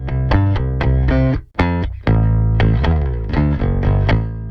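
Aggressive bass guitar with compression and distortion plays a loud, gritty riff of repeated punchy notes and slides, heavily saturated with bright harmonics, with a short gap midway.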